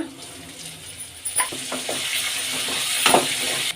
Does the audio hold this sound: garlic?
yes